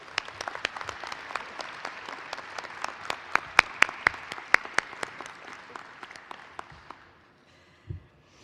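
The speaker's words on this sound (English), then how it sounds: "let's give them a round of thanks and applause" Applause from an audience at a university nursing convocation ceremony, a dense steady clapping with sharp individual claps standing out, loud at first and then thinning out and fading to near silence toward the end.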